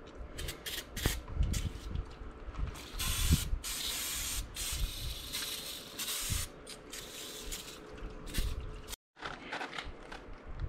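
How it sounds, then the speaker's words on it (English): Repeated hissing bursts of aerosol cleaner sprayed up close onto the front brake disc of a 2009 Chevy Silverado 1500, several long sprays separated by short pauses and light clanks. "we'll go ahead and just spray down the brake disc just to get any grease off of it"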